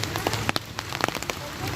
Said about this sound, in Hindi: कभी ना बारिश तेज़ हो जा रही है, कभी हल्की हो जा रही है